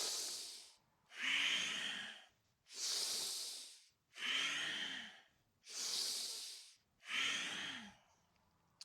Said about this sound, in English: Using a deep, powerful breath.